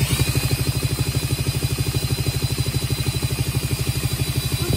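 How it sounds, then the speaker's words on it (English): A drill cranks over a Polaris 770 big bore engine to prime its fuel system, giving a steady, fast, even chugging pulse with a constant whine above it, close and continuous throughout. "I'm going to basically turn the motor over with the drill to try to prime the fuel system"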